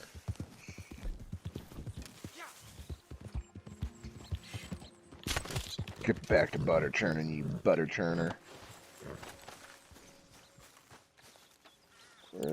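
Horses walk in a video game, their hooves making repeated close clip-clop steps with mechanical clanks, while someone talks over them.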